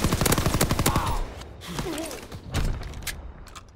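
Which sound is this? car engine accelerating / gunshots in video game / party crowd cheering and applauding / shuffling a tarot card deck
gunshots in video game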